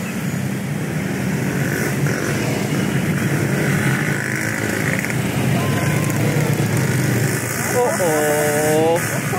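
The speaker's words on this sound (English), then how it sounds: "Someone pushing a cart, motorcycles, tuk-tuks." Motorcycles and tuk-tuks rumble along a busy Bangkok street, engines droning continuously with a passing whine near the end, while people talk over the traffic.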